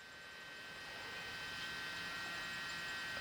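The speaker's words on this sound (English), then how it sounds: "It is essentially a blower," A blower for lighting coals in a pellet smoker tray gives a steady, faint whirring hum with a tonal whine, holding constant and slowly swelling slightly over a few seconds.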